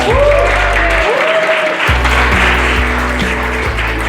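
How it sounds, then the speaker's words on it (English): An audience claps steadily through a university lecture on feminism and firearms at the University of Nevada, Reno, a dense, even wash of applause with low droning tones underneath. "Give it up for Amanda"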